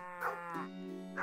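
A cow moos in a Roblox farming game, a single drawn-out low call heard clearly and alone.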